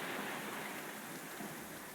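Steady heavy rain pours down during a night thunderstorm, a dense continuous hiss with faint low rumbling underneath, recorded at a distance and fairly quiet.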